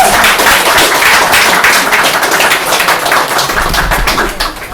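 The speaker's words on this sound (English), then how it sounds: "I think we should give her another round of applause" Audience applause at an open-mic evening in a bar, dense and steady clapping filling the room for several seconds without letup, close and loud, with no talk over it.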